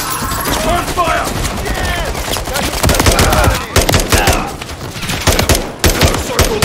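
Rapid bursts of automatic gunfire from Call of Duty: Modern Warfare III, loud and near, crackling in dense volleys across the whole stretch, with shouted voices in the game mixed in under the shots.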